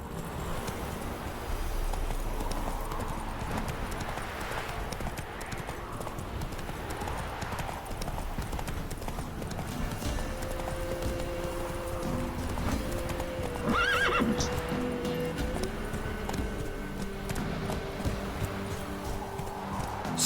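In The Witcher 3, the horse Roach gallops with rapid, steady hoofbeats, and a clear neigh rises partway through before the hooves carry on.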